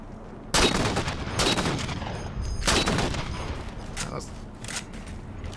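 Gunshots in the shooter game Halo 4 sound as a handful of loud, sharp cracks spaced across a few seconds, with someone talking between them.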